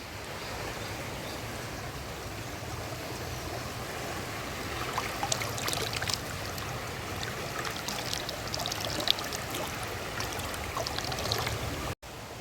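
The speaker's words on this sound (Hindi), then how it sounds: "तो गंगा जल तो आजकल साफ दिख रहा है, लेकिन बहाव अभी भी बहुत तेज है।" The Ganga river at Haridwar rushes past steadily and loudly, a dense continuous wash of fast-flowing water heard close by with no pauses.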